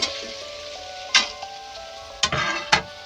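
Potato pieces for alur dom sizzle and fry in a pan, a steady hiss broken by a few sharp bursts as pieces drop in and get stirred.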